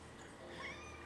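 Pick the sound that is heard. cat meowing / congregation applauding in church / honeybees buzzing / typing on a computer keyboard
cat meowing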